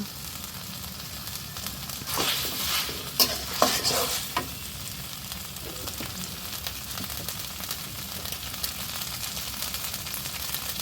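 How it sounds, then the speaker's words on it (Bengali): Ginger and cumin paste fries in a pan of hot oil with onions while mutton curry is being cooked, giving a steady soft sizzle broken by a few sharper stirring scrapes near the start, with no voices. "আদা বাটা জিরা বাটা ওকে একটু ভেজে নেব"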